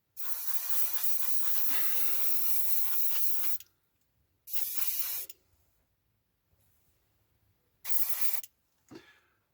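Airbrush spraying paint onto a 1/48 scale Kinetic F-104J Starfighter model: a long steady hiss of several seconds, then two shorter close bursts separated by quiet pauses.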